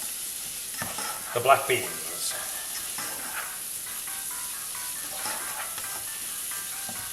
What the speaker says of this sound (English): So let's keep these frying